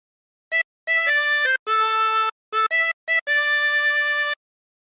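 Harmonica playing a short song phrase, alone and close: clear sustained reedy notes in a halting rhythm of brief blows and longer held tones, some chordal, with short gaps between.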